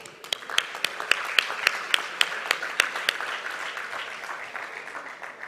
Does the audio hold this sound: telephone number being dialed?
no